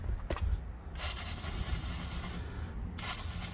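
Pressurized pump foamer sprayer, modified with a Schrader valve, spraying outdoors in several hissing bursts that stop and start, fairly close, with no talk.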